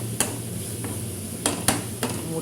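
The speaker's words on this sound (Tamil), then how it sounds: "நம்ம இதை கிண்டி விட்டு" A spoon stirs capsicum thokku in a pan, giving a few sharp metallic scrapes and knocks over a steady loud sizzle of cooking, close up and without talk.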